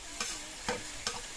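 Cumin and ground spices sizzle steadily as they fry together in a pan for a village-style Indian dish, with three short, evenly spaced stirring scrapes.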